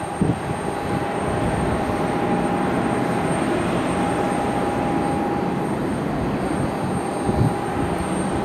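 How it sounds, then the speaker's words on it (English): A heavy jet airliner rumbles steadily at Cleveland Hopkins Airport, a continuous broadband engine roar with a faint steady whine, moderately close and unbroken throughout, with no talk over it. "Follow our heavy jet here for a minute."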